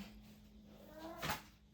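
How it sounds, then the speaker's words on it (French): An old cat calls from its basket indoors, a single short meow rising out of quiet room noise, fairly faint and brief. "ça se peut que vous entendiez mon vieux chat"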